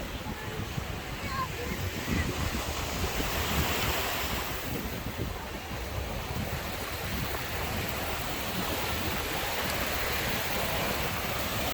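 Ocean surf and gusty wind on the beach at Siesta Key, Florida, roar steadily and close, with wind buffeting the microphone throughout.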